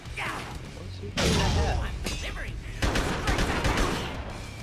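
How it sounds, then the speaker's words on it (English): A shotgun blast in the zombie action game Dead Rising 2: Off the Record, one heavy booming hit followed by clattering mechanical impacts amid dense game noise, with a voice faintly present. "he sniped me with a, a shotgun"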